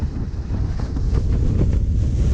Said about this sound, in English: It's windy this morning.